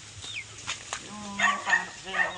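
A dog in a rural Philippine setting gives a few short barks and whimpering yelps amid people talking nearby, moderately loud and intermittent.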